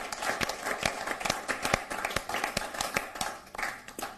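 Loud crowd applause at a Hindi-Urdu poetry recital, a dense run of sharp claps that carries on for several seconds with no speech over it.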